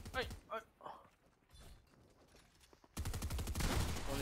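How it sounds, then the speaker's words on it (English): Fortnite gunfire crackles in bursts, a few sharp shots early, then a sustained loud rapid volley of automatic fire in the final second and a half, with voices in the background. "Someone's shooting."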